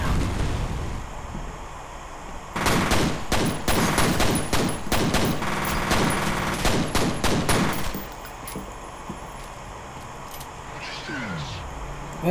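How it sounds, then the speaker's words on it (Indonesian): Bursts of enemy gunfire in the shooter F.E.A.R., a dense run of sharp, close shots lasting several seconds, then fading to quieter background ambience with occasional faint noises. "Aku ditembak musuh itu."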